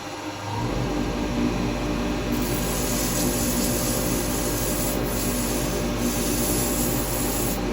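Abrasive being pressed against a spinning live-edge yew bowl on a woodturning lathe, a loud, continuous rubbing hiss over the lathe's steady hum, close and unbroken after a brief start.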